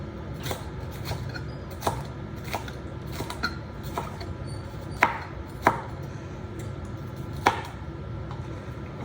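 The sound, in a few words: vegetables being diced with a knife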